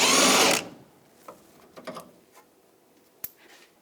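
A ratchet wrench with an 18mm socket works the lower bolts on a 2014-2018 GMC Sierra front bumper bracket: a loud burst of rapid ratcheting for half a second, then a few faint scattered clicks and a sharp tap.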